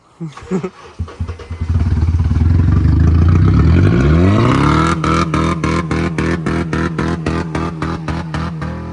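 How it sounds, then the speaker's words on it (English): A Honda engine running rough on chocolate milk, cranking and catching, then revving up loudly and settling into a shaky, pulsing idle that stutters in regular beats. "The freaking engine's shaking like crazy."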